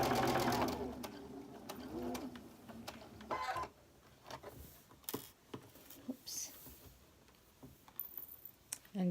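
A sewing machine chain stitches quilt pieces one after another, a soft, close whirring stitch run broken by short pauses and faint clicks, fairly quiet overall.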